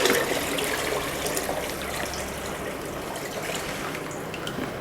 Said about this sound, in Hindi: 6 लीटर पानी और डाल देना है।